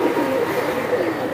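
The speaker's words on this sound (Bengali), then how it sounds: "এইটা হচ্ছে দোয়েল কবুতর।" A doyel pigeon coos softly and low for a brief moment, a muffled throaty murmur against faint background noise, with no words spoken.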